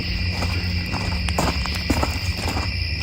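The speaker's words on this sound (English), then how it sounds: "They say you hear all the bugs and frogs." Night insects chirp in a steady, continuous high-pitched drone outdoors near train tracks, with faint lower calls mixed in and no talking.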